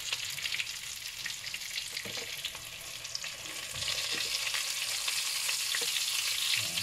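A pepper pork chop frying in butter with garlic, giving a dense steady hiss of sizzling fat that grows a little louder partway through, close up with a few faint utensil knocks.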